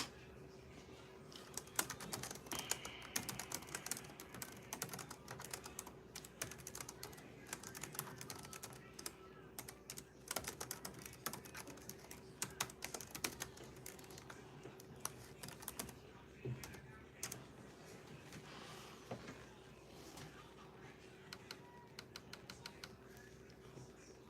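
Typing on a computer keyboard: quick, irregular bursts of light clicking keystrokes continue throughout, faint and close, over a steady low electrical hum.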